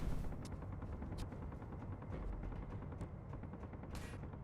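Gunfire in the video game Space Engineers: rapid, repeated shots and distant blasts rumble continuously, with sharp cracks standing out at intervals over a dense, loud backdrop.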